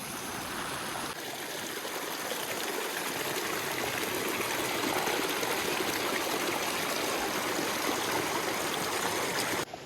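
Mountain stream rushing through a high meadow near Chilas, a steady, loud, close wash of water that runs unbroken the whole time with no voices.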